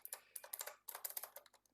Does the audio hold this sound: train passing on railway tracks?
no